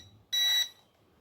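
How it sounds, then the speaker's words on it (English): A single short, bright electronic beep from a 3-channel RC warbird airplane transmitter as it connects to the plane, sharp and close, with near silence before and after. "you will hear a beep, and then both the LEDs will go solid"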